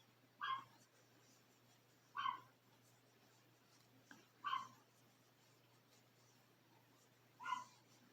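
A dog barking in the background indoors, four short, fairly faint yips spaced about two seconds apart over a quiet room hum.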